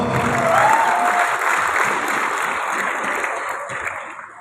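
Audience applause at a recognition ceremony at a petrol station in Gamping, Sleman, a loud dense burst of clapping that stays steady and then slowly fades.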